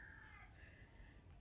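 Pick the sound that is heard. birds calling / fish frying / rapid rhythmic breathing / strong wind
birds calling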